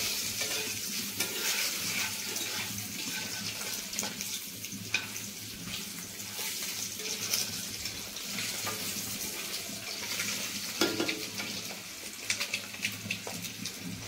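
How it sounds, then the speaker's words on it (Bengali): Onion frying in hot oil in a pan for an egg curry, giving a steady, close, dense sizzle with occasional stirring scrapes throughout, without any talk. "তারপরে পেঁয়াজটা দিয়ে হালকা ব্রাউন করে নেব"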